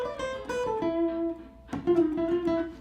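A jazz guitar lick, a quick run of clear plucked single notes with hammer-ons and pull-offs around a held note, played close and fairly quiet with no talking.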